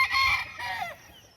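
Chickens on a farm give a brief burst of clucking and squawking calls, fairly close and clear, lasting about a second over quiet background.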